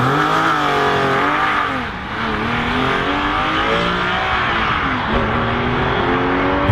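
Porsche 996 GT3 RS accelerating hard on a damp road, loud engine rising through the revs, a brief dip at a gear change, then climbing again with a faint hint of tire slip, no talk.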